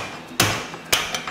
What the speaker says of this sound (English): Hit him with the big hammer.